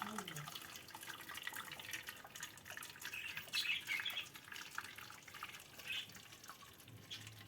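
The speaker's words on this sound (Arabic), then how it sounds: "انا هصب دلوقتي الميه السخنه" Hot water poured into a tray of homemade yogurt, a soft continuous watery trickle with faint splashy brightness that swells slightly midway, heard alone at close range.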